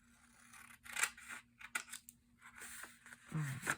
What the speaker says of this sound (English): Cut this side.